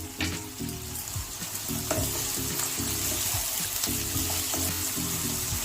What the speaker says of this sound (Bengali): এটা একটু নরম করে ভেজে নেবো